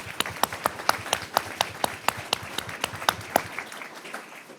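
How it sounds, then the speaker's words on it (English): At a school board meeting, a small group claps for a new high school assistant principal, with distinct individual claps in a quick, fairly regular rhythm that thins out and fades near the end. "So round of applause for Jake, welcome."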